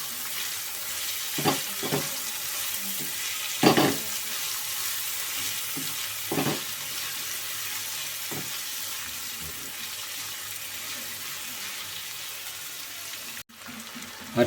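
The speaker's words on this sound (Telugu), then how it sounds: "అరటిపువ్వు చిన్న ముక్కల కింద కోసుకున్నాం కదా, మొత్తం వేసుకుందాం. ఇప్పుడు మొత్తం కలుపుకుందాం ఒకసారి" Chopped banana flower frying in a pan during village cooking, a steady close sizzle with occasional scraping stirs and clatters of a spoon, busier early and quieter toward the end, no voices.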